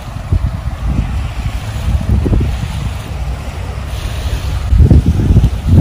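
Sea waves wash onto a beach in heavy low surges that swell and recede, loud and close, with strong wind buffeting the microphone throughout.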